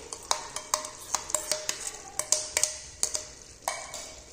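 Ground masala paste tossed and stirred into chicken in a hot pan for a Maharashtrian chicken bhaji, giving a run of sharp scraping clicks at a steady, quick rhythm with no talk over it.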